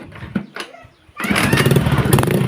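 A Honda Vario 125 scooter with a CKP sensor fault code is cranked and its engine catches, going from a few brief starter attempts to a steady, loud running rumble.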